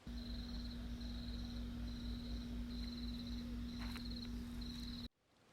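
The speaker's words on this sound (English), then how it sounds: "I'm going to try to enter crickets into this video" Crickets chirp in a steady, evenly spaced pulsing pattern over a constant background drone, the sound holding for about five seconds before cutting off abruptly.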